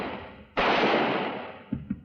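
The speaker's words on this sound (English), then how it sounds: "Quit shooting" A single loud gunshot in a western film cracks suddenly and rings out with a long echoing decay, followed by a couple of faint knocks.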